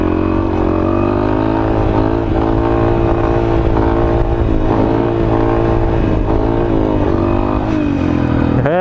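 A Honda Fan 160 motorcycle revs steadily for a wheelie, holding a loud, continuous buzzing engine note close by, with a sharp rise in revs at the very end and no talk.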